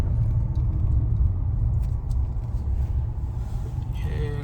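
A car being parked in a parking lot gives a steady low engine rumble throughout, close and loud, with faint clinks and a brief hiss near the end.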